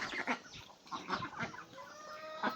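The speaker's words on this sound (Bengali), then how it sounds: "এগুলো হচ্ছে নূরজাহানের হাঁস" A flock of domestic ducks calls in short, faint bursts of nasal chatter close by, with brief pauses between the calls.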